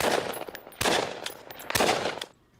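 Heavy gunfire in three loud bursts of rapid automatic shots, each ringing out before the next, with a quieter tail at the end.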